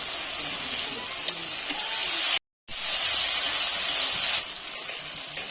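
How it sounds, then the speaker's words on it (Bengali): Spice masala with Kashmiri chilli powder fries in a pan for a potato and pointed gourd curry, giving a steady close sizzling hiss that cuts out briefly midway before continuing. "কাশ্মীরি লঙ্কার গুঁড়ো দিয়ে ভালো করে মশলাটা কষিয়ে নেবো"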